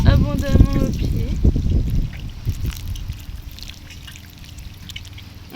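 Water poured generously at the base of newly planted tomato plants in garden soil, a soft trickling pour that continues after a brief voice at the start and fades lower toward the end.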